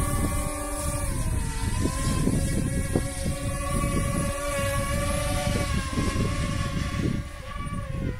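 A small DJI Mavic Mini drone flies outdoors in picking-up wind, its rotors giving a steady, buzzing whine with layered tones over constant rushing wind noise. The sound stays fairly loud and even throughout.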